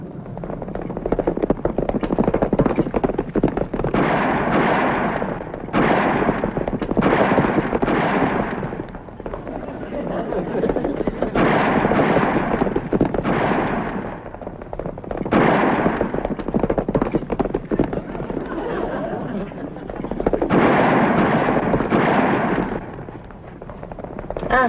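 Gunshots from a western movie playing on a television: loud, dense bursts of gunfire come in repeated waves, with short pauses between volleys, filling most of the stretch.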